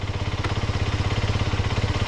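A Malaguti XSM 125 motorcycle engine idles steadily nearby, a loud low rhythmic pulsing with even beats that does not vary across the short stretch.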